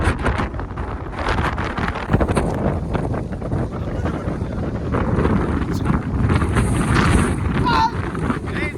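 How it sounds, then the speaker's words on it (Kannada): Strong wind buffets the microphone in loud, gusty roars, with bursts of rushing air and faint voices underneath. "ಗಾಳಿ ಹಂಗೆ ಎಳಿತಾ ಇದೆ ನಮ್ಮನ್ನ ವಾಪಸ್"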